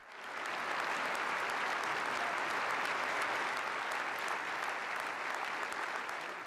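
Politicians give a standing ovation to Pope Benedict XVI after his 2008 speech at the United Nations, a dense, steady roar of clapping from a large hall that swells in and holds loud throughout.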